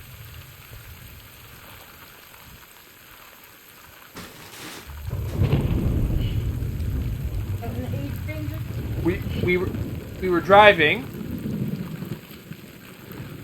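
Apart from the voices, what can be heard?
thunderstorm and rain in Death Stranding video game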